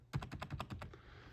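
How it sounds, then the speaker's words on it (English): Quick run of about eight crisp computer keyboard keystrokes in an even rhythm, close and fairly quiet, then a fading quiet room with no speech. "to get out of a slideshow is escape on your keyboard"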